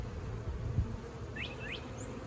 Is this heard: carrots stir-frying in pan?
no